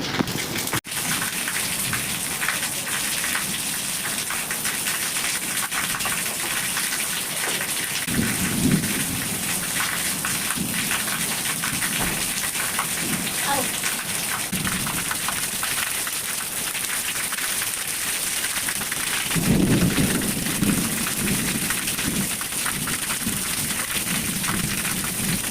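Heavy rain pours down in a thunderstorm, a loud, constant roar of drops with low thunder rumbling in twice, once early and once late.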